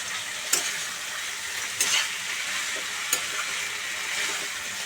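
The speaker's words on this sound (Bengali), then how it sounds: "এবার মোচাগুলো সিল করে করে আমি ভাজবো একটু ভাজা ভাজা করবো" Mashed banana flower sizzles in hot oil and fried spices for mochar ghonto, a steady frying hiss broken by a few sharp scrapes of the stirring spoon.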